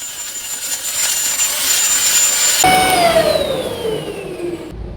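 An Eysin V30 vacuum mop runs loudly with a high motor whine that changes pitch, sliding downward partway through, before abruptly cutting off near the end.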